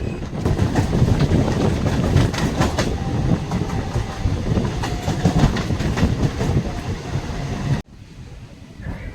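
A Basirhat to Sealdah local train runs loud and steady with continuous rumbling and clickety-clack of the wheels, then the noise suddenly drops to a quieter hum near the end.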